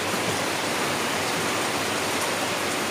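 Steady rain pouring down with water leaking into a house's living room, a dense, even hiss of falling water that stays loud and constant throughout with no pauses and no talking.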